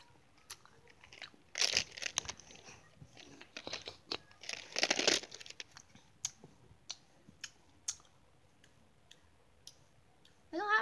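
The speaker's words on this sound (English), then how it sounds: "I just tried chewy lemon heads and they don't actually have a taste." Chewy Lemonhead candies are chewed close to the mic, with a few louder crunching, squishing bursts between softer, sporadic mouth clicks and smacks.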